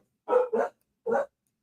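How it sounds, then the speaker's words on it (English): Two quick barks followed by a single bark from a dog near the microphone, clear and alone against silence. "There go my dogs."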